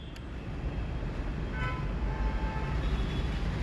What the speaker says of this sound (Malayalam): ഒരു വശത്ത് ട്രെയിൻ വരുന്നുണ്ട്